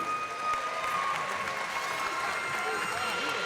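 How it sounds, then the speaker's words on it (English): Boxing crowd at a professional fight applauds both fighters after six rounds, a steady wash of clapping and crowd noise with no pauses. "let's have a big round of applause, please, for both of the fighters inside of the ring"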